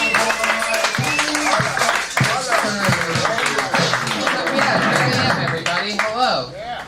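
A comedy club audience at the Comedy Store claps and cheers for the host, a steady wash of applause running under someone speaking throughout.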